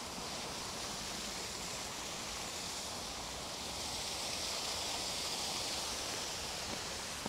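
Steady running water flows near traditional Korean houses in what seems like a park, a continuous broadband rush with no breaks and no voices.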